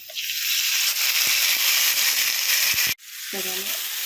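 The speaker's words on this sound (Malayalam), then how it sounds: "നന്നായിട്ടൊന്ന് വഴറ്റുകയാണ്" Crushed onion and garlic sauté in a hot pan with green chilli, giving a steady broadband sizzle for about three seconds that cuts off abruptly, then resumes more quietly while a voice speaks briefly.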